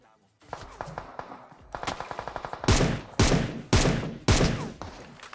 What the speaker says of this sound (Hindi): देखो ये टपाटप ये 2-2 गोली चलाना बहुत हो चुका है